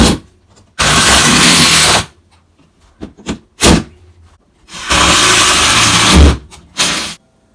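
A power drill countersinks screw holes in barn metal for a dining room wall, running in two long loud bursts with a few short blips and triggers in between, close up with no talk.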